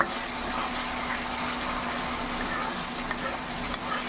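Spice paste cooks down in oil in a pan with a soft, continuous bubbling sizzle, fairly even and close, with no talking.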